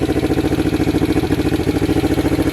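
A Yamaha XS400 motorcycle engine fitted with a 6 Sigma jet kit, running close and loud just after starting, with a fast, even pulsing idle throb throughout.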